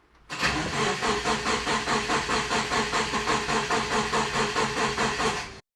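A turbocharged Subaru Forester engine cranking, the starter churning in a fast, even rhythm of loud pulses, close by, for about five seconds before cutting off abruptly without catching.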